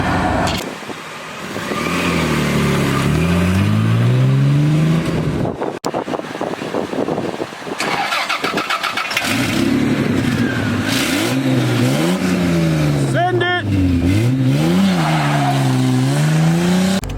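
A Toyota Landcruiser engine with loosened exhaust bolts revs hard and repeatedly, rising and falling in pitch with a raspy, loud exhaust note that fills the whole stretch without any talking.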